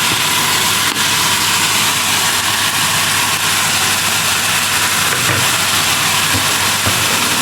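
Onions sautéing in a pan give a loud, dense, continuous sizzle and hiss that holds steady from start to finish, with no voices over it.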